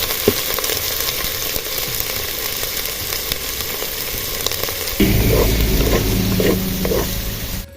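Cleaned dried anchovies sizzle in hot oil, a steady close frying hiss with small crackles that turns louder and fuller partway through, joined by a low rumble.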